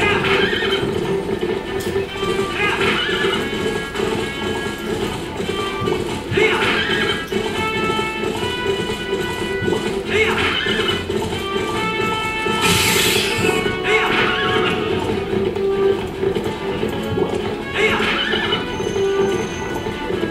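Horse galloping with steady clip-clop hoofbeats and occasional neighs in The Legend of Zelda: Twilight Princess, continuous and fairly loud over game music, with no talking.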